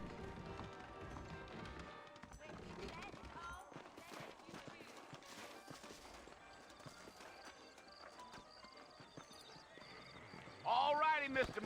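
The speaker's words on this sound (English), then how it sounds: "I got the horses saddled up and ready out front" Horse hooves clip-clop in a Wild West setting in the video game Red Dead Redemption, a steady trotting beat running under ambient game sound and music, with a louder burst near the end.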